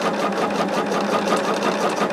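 A sewing machine stitching half square triangles for a quilt block, running steadily and continuously at close range with no pauses.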